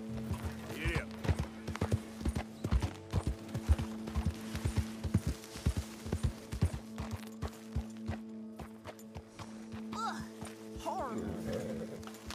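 Horse hooves in Red Dead Redemption II clop in a steady run of sharp, close beats that slow and stop as the horse is hitched, with a brief neigh or snort near the end and talk over parts of it.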